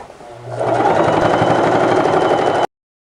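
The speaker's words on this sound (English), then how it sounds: "Just go ahead and sew around the entire perimeter of this" A sewing machine stitches around the edge of an Ultra Cuddle fabric blanket, a loud close steady whirring run of about two seconds that stops abruptly.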